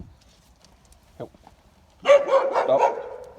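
Leash-reactive mixed-breed dog barking at another dog: after faint rustling and a short yelp, a loud run of harsh, rapid barks bursts out close by.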